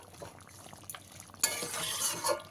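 Chicken simmering in its released water gets stirred in a pan during a pepper chicken recipe, soft scraping strokes over a bubbling sizzle that swells louder and brighter partway through, with no talking.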